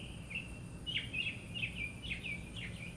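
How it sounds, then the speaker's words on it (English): A bird sings a series of bright, quick chirping phrases close by, repeating every half second over a low background hum. "That is a very loud bird."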